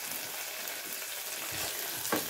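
Vegetables stew with a splash of white wine in a pan, giving a bright, continuous close-up sizzle and bubbling with a couple of soft stirring scrapes near the end and no talking.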